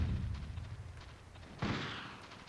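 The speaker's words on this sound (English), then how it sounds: "Oh God, can you stop with the grenades please?" A grenade blast in the PlayStation game Army Men: Land Sea Air gives a deep low rumble that fades, then a second sharp explosion strikes at mid-clip and leaves a long, bright, hissing decay.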